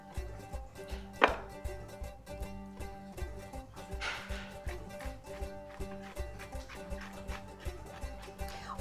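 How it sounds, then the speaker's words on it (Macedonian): Mushrooms being grated in a home kitchen while vegetables fry nearby, a steady run of rhythmic scraping strokes at close range, soft but regular, with a few sharper knocks and no talking. "јас ќе почнам да ги рендам и печурките"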